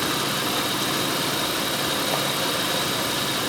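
A Toyota/Lexus 3-liter engine with variable valve timing and a VVT fault idles steadily, a constant hiss-laden drone with no change in pace, heard alone at moderate level.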